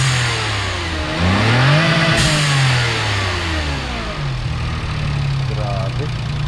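A car engine revs hard and settles in long rising and falling surges, close and loud, with a turbo blow-off valve venting; people talk over it at a car meetup at a fuel station.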